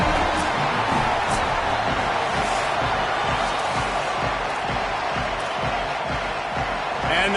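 Home crowd roaring at Camp Randall Stadium in a college football video game, a continuous dense wall of cheering and chatter, loud and sustained throughout, with a broadcast voice talking over it.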